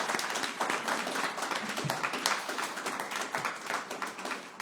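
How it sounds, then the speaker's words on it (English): Audience applause at an evening event, steady dense clapping from a crowd that holds for several seconds and trails off slightly at the end. "We're going to give him a round of applause"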